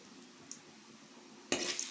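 Spices for an Andhra-style gongura prawn curry crackle in hot oil as a tempering, a faint steady sizzle with a tiny clink, then a louder burst of frying or stirring near the end.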